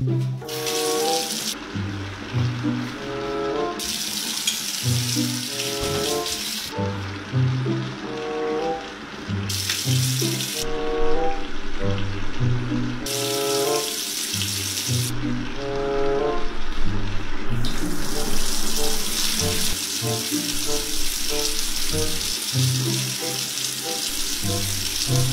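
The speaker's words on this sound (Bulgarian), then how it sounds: "Спри да тая вода, бе." Tap water runs steadily for the whole stretch, loud and near, mixed with a busy background of music or noise that cuts in and out. No one speaks.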